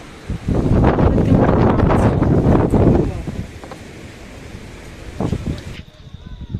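Gusty wind near Seven Sisters Falls in Cherrapunji rumbles against the microphone in strong bursts, easing midway, then a brief gust returns before fading.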